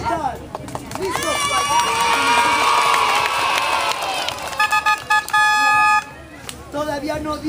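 Schoolchildren in a classroom clap and shout loudly all at once, a bright crowd of cheering young voices that rises and falls over several seconds, with an adult talking at the end.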